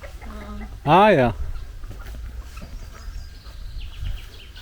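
Chickens in the middle pen of a farm stall, with a loud, harsh crow-like squawk near the start, scattered clucks after it, and a person speaking briefly.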